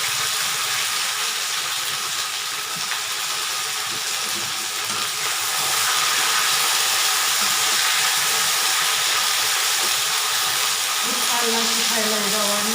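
Cluster beans tipped into hot oil in a pan hiss and sizzle loudly and steadily, the frying noise swelling partway through, with a voice speaking briefly near the end.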